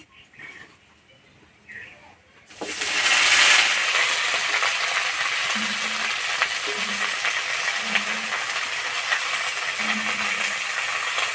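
Chopped pumpkin greens land in a hot pan with fried garlic and break into a loud, steady sizzle that continues throughout, with faint clinks underneath.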